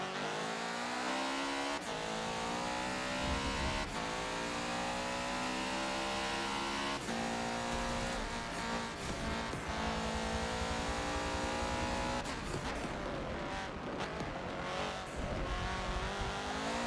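A Porsche 919 race car in Forza at Daytona, engine pitch climbing repeatedly through upshifts with brief breaks between gears, loud and continuous, a little tire noise near the end, no voices.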